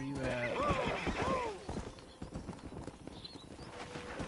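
A horse in the Red Dead Redemption video game gives a loud, wavering whinny, then hooves clop in a quick uneven rhythm, with voices talking faintly alongside.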